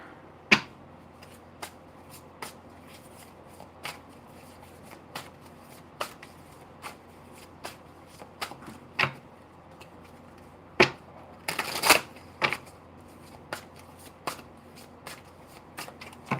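A deck of oracle gemstone cards is shuffled in a run of sharp, irregular snaps and riffles, with a dense burst of flicking near the end, close and fairly quiet with no talking.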